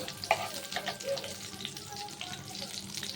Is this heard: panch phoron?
yes